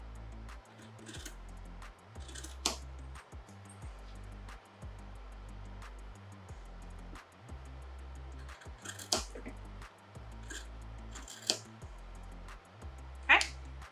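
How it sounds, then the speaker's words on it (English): Scissors cut a fabric square from the outer layer of a zipper pouch, a few crisp snips spaced out between quiet pauses. "you're gonna cut out that square. Make sure you don't cut your lining"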